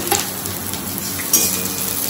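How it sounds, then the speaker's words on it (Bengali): Onion and green chillies fry in mustard oil with mustard seeds and dried red chilli, a steady close sizzle and crackle with light utensil clinks, no talking. "তার সাথে পেঁয়াজ আর কাঁচা লঙ্কা ভাজা দিব"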